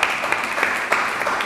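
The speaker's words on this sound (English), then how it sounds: "Can we give God a praise clap?" A church congregation at a Sunday morning service claps together in a dense, continuous burst of applause, close and fairly loud, with no speech over it.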